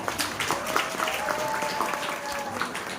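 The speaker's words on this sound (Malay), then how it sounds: "Tepukan gemuruh untuk dia." Applause from an audience at an Amway business event, a steady wash of clapping mixed with faint voices running through the whole moment at moderate distance.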